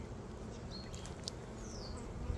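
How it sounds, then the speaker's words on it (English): Honey bees flying out of a hive during a requeening check, a close buzzing swarm with individual bees whizzing past over a dense low hum, no speech. "you can see the bees still flying out, hitting my hands"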